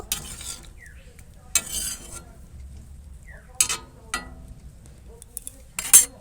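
Papaya pieces stirred in sugar syrup boiling on a high flame for tutti frutti: bursts of spoon scraping and clinking against the pot between quieter bubbling, close and intermittent, no talk.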